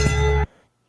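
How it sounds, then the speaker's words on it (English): A single loud bell strike with a bright ringing tone that cuts off abruptly after under half a second, leaving near silence. "when you hear the bell ring"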